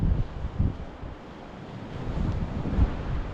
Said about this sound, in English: If I whisper, nobody will hear me over the wind. It's windy out there.